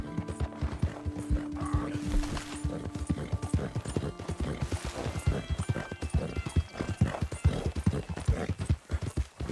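Horse hooves clop in a steady, busy rhythm throughout Red Dead Redemption 2 gameplay, with a whinny rising early on amid faint game ambience.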